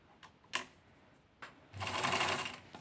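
A sewing machine stitches fabric in one short burst after a few soft handling clicks, close and fairly quiet, with no talking.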